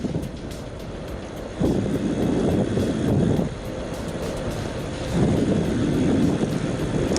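An ANCHEER electric bicycle cruising on throttle power alone, heard as steady low rumbling road and motor noise mixed with heavy wind buffeting on the microphone, swelling louder in two stretches.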